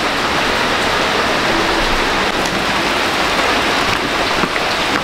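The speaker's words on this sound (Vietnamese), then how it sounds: "Mà trời mưa buồn quá." Steady, dense rain falls close by, a loud, even hiss of downpour lasting throughout with no voices.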